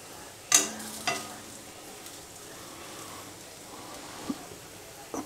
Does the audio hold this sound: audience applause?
no